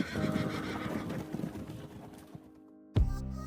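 A horse whinnies loudly up close, its neigh trailing off, followed by a quiet pause and a sudden thump or snort.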